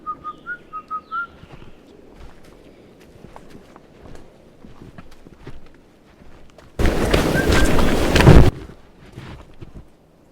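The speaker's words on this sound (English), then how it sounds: "we whistle, then we get the whistle back loud and clear." Whistling outdoors: a few short, faint whistled notes at the start among footsteps and light rustling, followed later by a loud burst of wind noise on the microphone.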